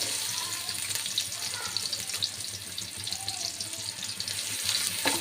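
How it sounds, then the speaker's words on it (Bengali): Chopped onion hits hot oil for a dal tempering, giving a steady, close crackling sizzle that runs throughout with faint kitchen clatter. "তেলটা আমি দিয়ে দিব পেঁয়াজ কুচি দিয়ে দিলাম"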